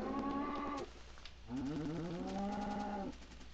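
Cows mooing inside a Minecraft game, two long, loud synthetic moos close together, with a short pause between them and no talking.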